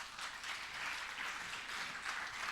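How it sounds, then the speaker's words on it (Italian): Steady audience applause at a conference event, dense and even clapping from a crowd in a hall, sustained throughout without voices. "e gli farei un applauso."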